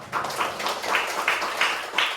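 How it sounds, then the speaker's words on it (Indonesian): Schoolchildren in an Indonesian classroom clap together for about two seconds, a close, lively patter of many small hands rising in several bursts. "Oke, tepuk tangan semua."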